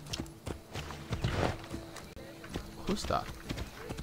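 Rhythmic clip-clop of horse hooves trotting at a steady pace in the video game Assassin's Creed Odyssey, with a person speaking briefly over them.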